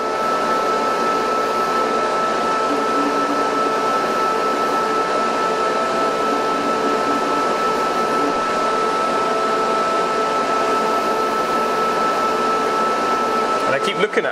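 A jewellery ring being worked on a polishing machine gives a steady, loud motor whine with broad hiss that runs unbroken throughout, ending in a brief clatter.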